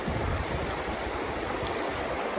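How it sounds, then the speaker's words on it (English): Creek water flows steadily in the background at a small creek where creek chubs are fished with cane poles, a constant rushing wash with no talking. "I really like this creek just for the sake of the sound of this in the background"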